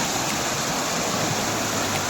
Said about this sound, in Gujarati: આ ઝરણું પડે છે